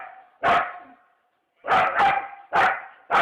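A dog barks loudly and close by, giving three or four sharp barks in separated bursts with brief pauses between them, and no talking.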